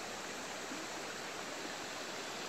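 A creek flows in a steady, faint, even rush of water, continuous and alone with no voices over it.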